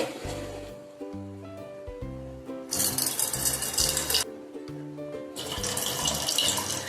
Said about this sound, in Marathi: दोन ते तीन पाण्याने ही डाळ मी स्वच्छ धुवून घेते